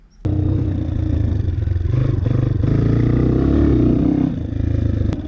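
A dirt bike rides through ruts under throttle, its engine buzzing loud and close from start to finish, revving and easing with light clatter and scraping from the ground.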